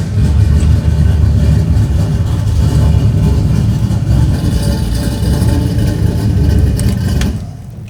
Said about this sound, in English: Damn, that car sounds good, Yoel.